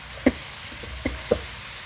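Vegetable fried rice with black pepper sizzles gently in a pan, with a few soft scraping knocks as it is stirred over a low, steady frying hiss.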